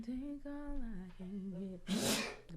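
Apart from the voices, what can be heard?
sneeze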